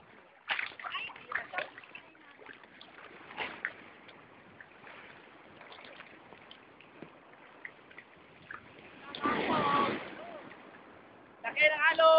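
Water sloshes and splashes against a small boat, with a loud burst of spray near the end and excited voices shouting over it.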